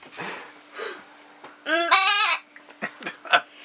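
Goats bleat in a series of wavering, nasal cries close by, one long quavering bleat in the middle flanked by shorter calls and soft background sounds.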